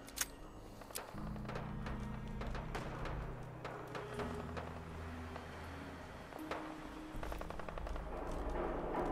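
Rapid bursts of gunfire from a sniper revolver in the video game Fallout 4, loud and close, with sharp shots repeating in clusters over a low droning game soundtrack.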